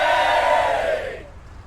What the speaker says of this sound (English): Had to add some Sirenscape cheering there.